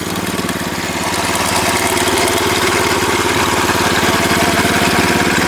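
Walk-behind tractor fitted with a mower attachment starts up and revs, a loud, steady engine drone with dense rhythmic firing pulses building slightly and holding near the mic.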